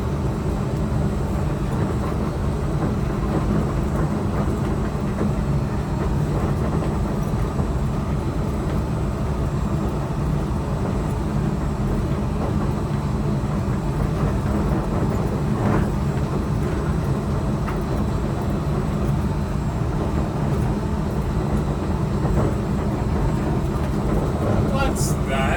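Steady mechanical rumble and hum from inside a Disneyland monorail train as it glides along its elevated track, continuous throughout with a recorded announcer's voice talking over the ride noise.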